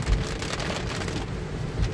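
Tesla Model 3 driving slowly through a big puddle, a continuous rushing, splashing wash of water spray against the car, steady and close, with a couple of heavier low thumps at the start and end.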